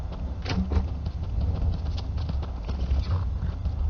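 Horse hooves clip-clop steadily on a hard surface in Skyrim Anniversary Edition at Pelagia Farm, close by, with a faint whinny and a low continuous background rumble.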